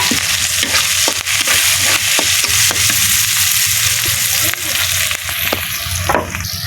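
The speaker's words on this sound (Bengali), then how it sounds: "শাপলা ভাজি করবো" Water lily stems frying with onion, garlic and chilli in a pan, a loud continuous sizzle broken by regular scraping strokes of a spatula stirring, with no talk.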